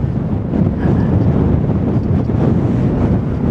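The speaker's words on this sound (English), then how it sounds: "I am sorry about the wind today." Strong, very bad wind batters the microphone outdoors during a photography outing, a loud, continuous low roar that surges slightly but never lets up, with no talking.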